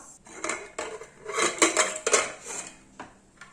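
A pressure cooker lid is worked open with several close metallic clinks and scrapes, short bursts of clatter spaced over a few seconds with no talking.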